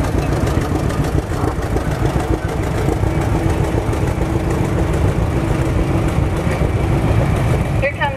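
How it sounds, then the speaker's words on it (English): A 1945 John Deere A tractor rolls past in an antique machinery parade, its engine running with a steady low chugging throb under constant outdoor background noise. "1945 John Deere A."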